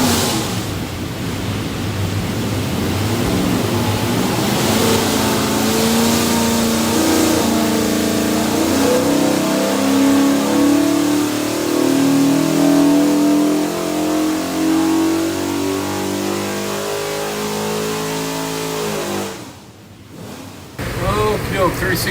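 A 363ci small block Ford V8 built for an '88 Mustang GT roars on a dyno, holding loud, steady power as the pitch climbs through a long pull, then drops off abruptly near the end.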